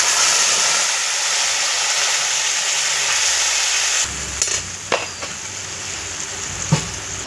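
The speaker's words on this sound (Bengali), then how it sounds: "পেঁয়াজটা ভাজা হয়ে গেছে, দেখুন কি সুন্দর লাল করে ভেজেছি। এবার আমি মশলাটা দিয়ে দেবো।" Spices tipped into reddish-brown fried onions in a pan for a small fish curry, a loud, steady close-up sizzle throughout with a few sharp clinks of a utensil against the pan.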